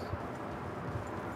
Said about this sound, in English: Where do we hitch our horse?